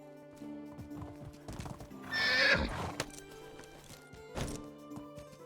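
A horse is ridden in the medieval village-building game Medieval Dynasty, with steady clip-clop hoofbeats close by and a loud neigh partway through.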